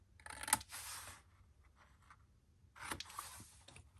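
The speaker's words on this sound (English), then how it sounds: "Okay, then take your scissors. We're going to miter the outside 1/2 inches only" Scissors cutting scored cardstock for a craft album, two close, crisp bursts of snipping, one early and one near the end, with quiet gaps between and no talking.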